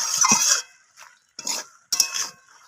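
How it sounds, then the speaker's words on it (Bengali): Short bursts of a spatula scraping and clinking in a pan as bottle gourd greens with poppy seed are stirred, about four separate strokes with quiet gaps between. "এখানে শাকটা আমি নাড়াচাড়া করে নিচ্ছি"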